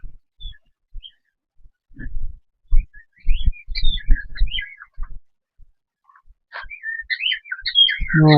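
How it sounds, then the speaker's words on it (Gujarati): Lovebirds and other exotic small birds chirp and whistle in scattered bursts at a temple, with a burst of sharper tweets near the end, against a few low thumps. "અહીંયા અલગ અલગ જાતના ચકલા પણ છે. લવ બર્ડ છે, વિદેશી ચકલા છે."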